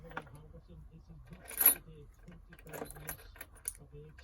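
A bicycle cassette lock ring is taken off, giving a few faint metallic clinks and light jangling under someone talking, with one brighter clink partway through.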